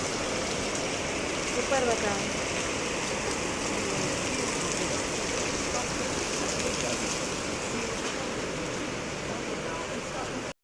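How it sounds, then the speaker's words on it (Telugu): Heavy rain pours down in a dense, steady roar, constant throughout and close by, with no break. "స్పీడ్ వర్షం పడుతుంది చూడండి గాయస్"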